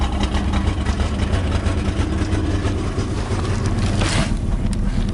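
A Pontiac Firebird engine idles steadily at close range, a loud continuous low rumble with a faint higher whine, no talk over it.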